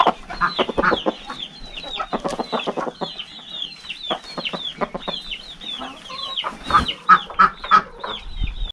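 Several native Mullan chickens cluck and squawk nearby in a busy, overlapping chorus, with occasional sharper calls rising above the rest.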